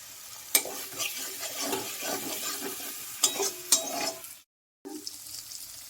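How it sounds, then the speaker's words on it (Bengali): Cauliflower roast with a splash of water and ground black pepper sautéed and stirred in a pan, giving a steady soft sizzle with scraping stir strokes and a few sharp clanks, broken by a brief silent gap near the end. "এটা আমি ভালো করে আবার একটু কষিয়ে নিচ্ছি।"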